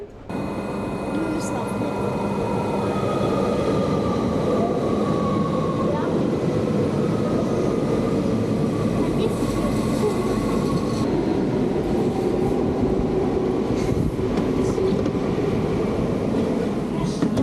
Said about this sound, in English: Dit is de Sprinter naar Amsterdam Muiderpoort, Amsterdam.